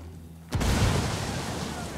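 A frag grenade in Tom Clancy's Wildlands detonates after a brief quiet moment, one heavy, close boom followed by a rumbling tail that slowly dies away.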